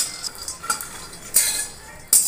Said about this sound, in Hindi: इसके हम कलछुल चला देते हैं और इसके धीमी आंच में भूजेंगे।